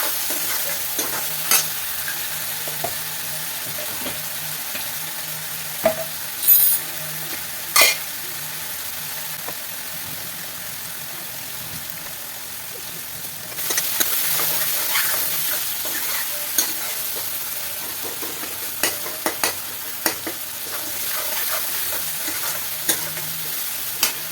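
Potatoes and tomatoes fry with salt in a pot for salted rice, giving a soft steady sizzle broken by sharp clicks and scrapes of stirring, growing a little louder partway through.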